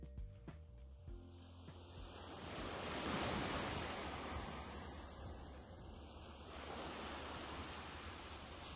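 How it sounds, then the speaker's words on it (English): Atlantic waves wash gently onto the beach at Cape May on the New Jersey shore, a soft continuous surf with some wind noise and a slow swell in loudness. "Just listen to those Atlantic waves gently lapping on the beach."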